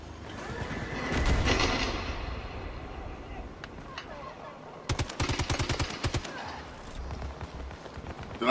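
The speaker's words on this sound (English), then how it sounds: "You see the gunfire?" Machine gunfire in the video game Battlefield V: scattered shots early, then a sharp rapid burst of evenly spaced rounds midway, with background combat noise and a player speaking.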